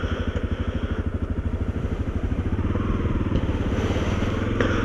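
A Honda CRF250L motorcycle engine runs nearby with a quiet, tame, even thrum, its steady low pulsing rhythm continuing throughout without talk.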